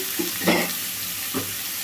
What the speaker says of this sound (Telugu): ఇట్లా సాల్ట్ వేసుకోవడం వల్ల తొందరగా వేగుతుందండి ఉల్లిపాయ